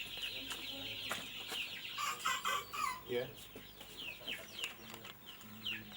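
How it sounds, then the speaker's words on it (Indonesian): One-month-old chickens in a coop cluck and chatter continuously, with a rooster-like crow rising in the middle, close and fairly loud; a person briefly speaks under the birds. "Dan ini sudah berusia 1 bulan ayam ini."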